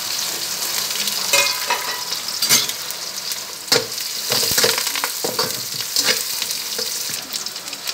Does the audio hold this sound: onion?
yes